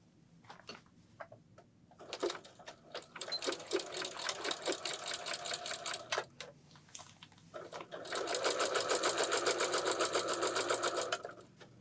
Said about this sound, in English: then we're going to take it to the machine and sew all the way around.